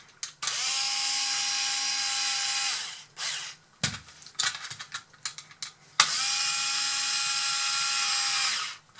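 A power screwdriver whirs in two sustained bursts while the track rollers are screwed back onto a Bruder CAT D11 RC bulldozer, with clicking and handling noises from the parts between the bursts.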